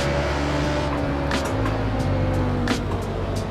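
A race car in the racing game Assetto Corsa, driven with an H-pattern shifter against competitive AI opponents. A steady engine drone with gear changes and brief sharp transients stays close and prominent throughout.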